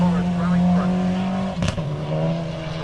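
A rally car at a forest rally sprint stage accelerates, its engine note holding steady then shifting pitch after a short burst of noise, with a commentator talking over it.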